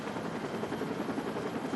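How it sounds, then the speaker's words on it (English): A helicopter arriving, its steady thudding rotor wash and engine whine filling the air loudly and continuously without any voices. "a helicopter arrives"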